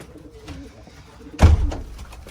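A nearby pigeon coos softly in strong wind, then a sudden close thump and flutter breaks in, followed by more low cooing.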